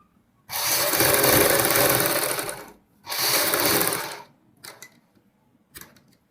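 A sewing machine stitches a double collar on a kurti, running in two long continuous whirring bursts, then a few short clicks and taps as it stops.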